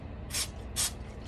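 Gun cleaner sprays into a Glock pistol in two quick, close hissing bursts about half a second apart, soft against quiet background noise.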